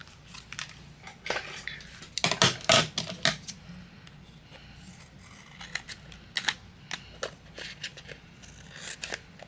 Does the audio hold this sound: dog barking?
no